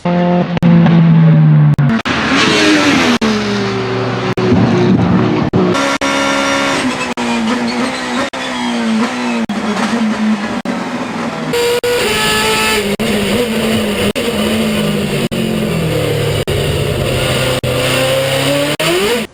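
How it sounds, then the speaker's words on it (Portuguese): A car engine revs and winds down repeatedly, its tone falling as it decelerates with fuel cut-off, with rough sputtering and popping from the exhaust. No voices, loud and close. "o carro muda muito o barulho fica um barulho de motor afogado, dando uns estouros"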